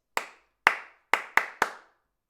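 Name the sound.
hand-clapped rhythm for a clapping game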